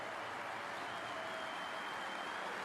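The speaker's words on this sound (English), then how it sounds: "Wild applause from the neighbouring table." Faint, distant applause drifting over from a neighbouring table at a professional snooker tournament, a soft even wash of clapping with no voices on top.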